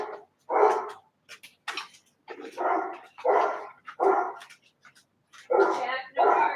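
A dog barks repeatedly indoors, about a dozen sharp, close barks in uneven bursts with short pauses between them.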